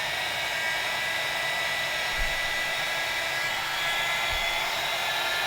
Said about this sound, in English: Is use a little heat gun or a hair dryer